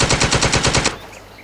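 Rapid automatic gunfire aimed at zombies in the survival game Ocean Is Home, a steady burst of about eight evenly spaced loud shots that stops abruptly, leaving a quiet tail.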